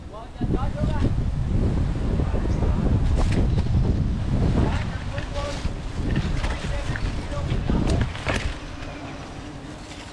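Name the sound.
strong wind outdoors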